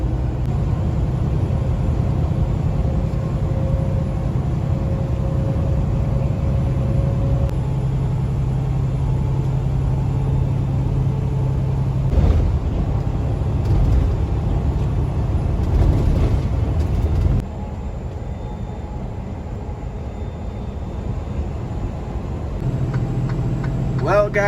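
A 400-horsepower truck engine drones steadily as the truck labors up a grade, a constant low rumble with faint ticking and a slight drop in level partway through, and no voices over it.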